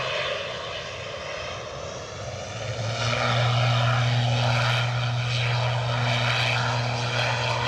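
A propeller airliner taking off from Edinburgh Airport, bound for Exeter: a droning engine hum rises to a loud, steady propeller buzz with a strong sustained tone, growing nearer and louder partway through.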